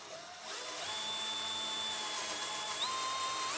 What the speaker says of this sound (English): right now I'm drilling holes for the hardware that we bought off Amazon